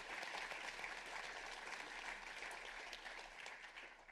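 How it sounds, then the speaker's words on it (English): An audience at a Notre Dame talk on art and museums claps warmly in a sustained, even round of applause, fairly faint and distant, with no voices over it. "give her a round of applause"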